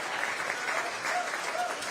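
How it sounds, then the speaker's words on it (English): Steady applause from a big crowd at an Austin mayor's re-election campaign kickoff, dense and continuous throughout with faint voices mixed in. "to say thank you to Selena and Saul Paul, and let's give them a round of applause."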